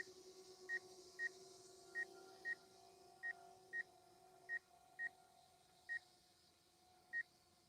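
A drone remote controller sounds its proximity warning, giving short, sharp electronic beeps at irregular intervals, roughly a dozen in all, over a faint steady background hum.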